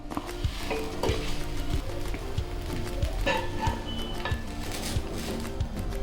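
Corn flour dosa batter cooking on a pan, a soft steady sizzle with occasional metallic scrapes and clinks of a utensil against the pan, close up and without talk.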